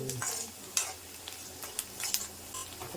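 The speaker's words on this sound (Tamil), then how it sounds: "இப்போது தேங்காய் போட்டுக்கலாம் நெய்யில். இப்போது முந்திரி போட்டுக்கலாம்." Coconut, cashews and raisins frying in ghee, with a close, steady sizzle and scattered stirring scrapes and clinks, no talking.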